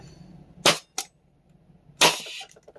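A FLAK 10 fires three sharp shots during a shooting test: one loud crack, a quicker lighter one about a third of a second later, then a heavier blast a second after that with a short decaying tail. The room is otherwise quiet.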